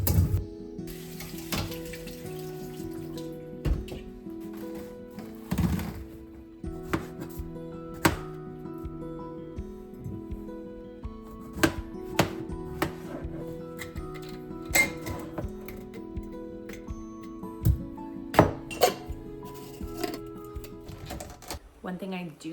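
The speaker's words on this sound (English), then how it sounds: "So I'm gonna be better at chopping these strawberries." Irregular knife taps on a cutting board as strawberries are chopped, sounding through steady background music, with occasional louder knocks.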